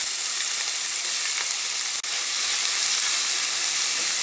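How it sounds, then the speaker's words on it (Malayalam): Onions and green chilies with ginger-garlic paste sauté in hot oil for a vegetable korma, giving a steady, close, even sizzle throughout with one brief dip midway and no talking. "ഇതെല്ലാം കൂടിയിട്ട് ഈ ഓയിലിട്ടിട്ട് നന്നായിട്ടൊന്ന് വഴറ്റിയെടുക്കാം"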